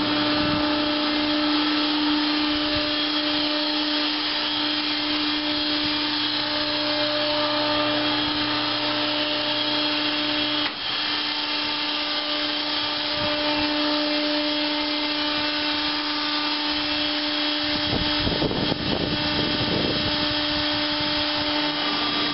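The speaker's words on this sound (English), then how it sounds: "The vines are fed into the viner using a conveyor belt. Then the paddles inside beat the vines and pods burst open." A stationary FMC pea viner runs steadily, conveyor-fed pea vines beaten by internal paddles, giving a continuous loud mechanical drone with a few brief knocks and rattles near the end.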